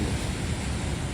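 The Mandakini river rushes through cold mountains in a dense, constant roar of flowing water, loud and unbroken, with a touch of wind.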